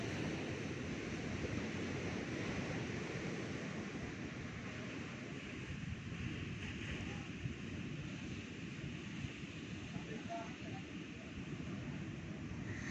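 Waves wash steadily onto Goa Beach on a Sunday morning as a constant wind rushes over the microphone, a broad, unbroken roar with no distinct breaks or voices.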